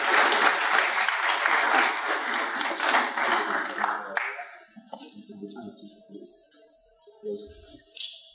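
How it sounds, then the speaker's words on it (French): Applause from a conference audience welcoming a guest, full and loud for about four seconds, then thinning to scattered claps and faint murmur as it dies away. "je vous demande d'applaudir M. Kuzmanovic"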